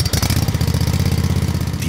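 A 600 cc Kawasaki two-cylinder carburetor engine on an IBEX G1 runs after an electric start, producing a close, loud, rapid low throbbing pulse that stays steady for about two seconds.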